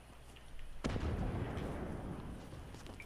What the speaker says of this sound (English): They're blowing up the gas station.